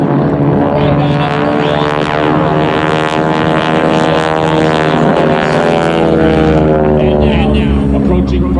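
Propeller-driven aerobatic airplanes fly a double cross loop at an airshow, their engines droning loudly and continuously with rising and falling pitch as they pass, under an announcer's talk.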